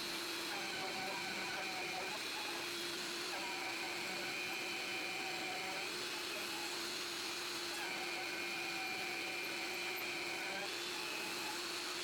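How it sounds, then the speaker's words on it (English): A shop vac roars steadily while collecting dust as a router flattens a wooden cookie slab, a loud constant whine with tonal hum and no pauses. "To be fair, I'm using a shop vac here."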